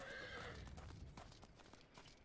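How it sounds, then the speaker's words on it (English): A horse neighs and whinnies in the online game Final Fantasy XIV, one short faint call with soft hoof clip-clop beneath it, heard alone without talking. "That was a horse."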